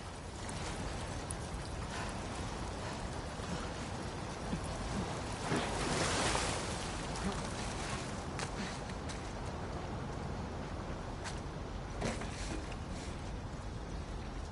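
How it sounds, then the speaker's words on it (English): A fast-flowing torrent of water in The Last of Us Part II rushes as a steady, dense broadband roar, even and unbroken, with a brief swell partway through and no voices. "the player was faced with a fast-flowing torrent of water they couldn't cross"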